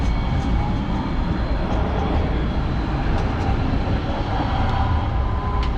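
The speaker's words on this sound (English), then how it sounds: "There's a train a-coming." A train rumbling past during an e-bike ride, a steady broadband roar that fills the whole clip at close range, with faint clatter and a few brief higher squeals over it, no voices.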